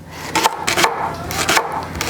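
A knife chops through leeks on a cutting board in a farm kitchen, several crisp, rhythmic strokes close up with a steady background hum.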